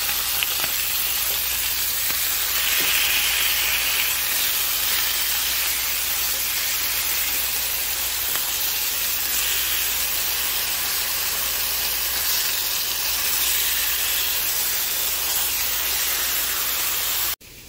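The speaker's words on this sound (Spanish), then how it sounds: "Lo voy a freír en el comal con poquito de aceite" Beef steak seasoned with salt and pepper frying in a little oil on a comal, a loud, continuous close-up sizzle and hiss that holds steady throughout before cutting off abruptly, with no talking.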